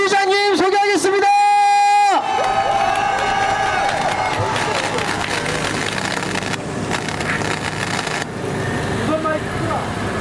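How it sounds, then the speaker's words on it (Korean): A crowd at an election campaign rally in Seogwipo, Jeju, cheers and applauds, following a few seconds of loud, tonal horn-like blasts, with a voice over a loudspeaker throughout. "여러분들의 힘찬 박수 함성을 부탁드리겠습니다."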